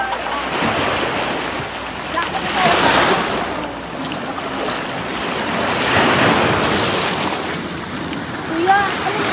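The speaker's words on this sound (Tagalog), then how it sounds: "Ang lakas ng alon." Strong ocean surf at Papaya Island Cove beach in Nasugbu, Batangas, with loud waves swelling and crashing in repeated surges, buffeted by wind noise on the microphone.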